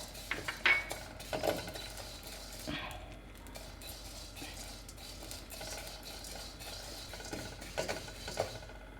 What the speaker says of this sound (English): Now I am going to add the green gram.